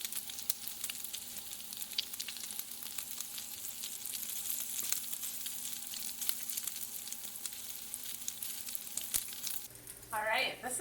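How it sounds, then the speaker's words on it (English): Bacon sizzles in a pan as its fat renders, a bright, continuous crackling hiss heard up close with scattered pops, running steadily before a brief voice cuts in near the end. "What we're doing is we're actually cooking the fat out of the bacon. This is what we call rendering the fat."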